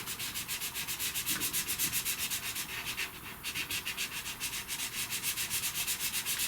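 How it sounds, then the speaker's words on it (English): Pastel being rubbed into paper for a flower drawing, a steady, close rhythmic scrubbing of quick back-and-forth strokes that continues throughout, with a short pause near the middle. "first thing we're going to do, we're just going to rub this in."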